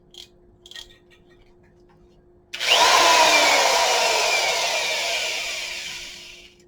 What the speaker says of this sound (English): That's the high speed.